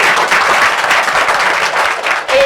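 A studio audience at a French-language TV debate show claps loudly and steadily, a dense, close wash of applause that lasts the whole moment and briefly dips near the end.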